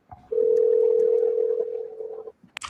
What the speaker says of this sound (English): Calling Grim the Reaper.